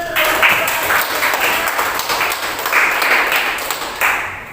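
Classroom applause from a group of students, steady clapping that fills the room at close range, with brief swells in intensity throughout and no speech over it.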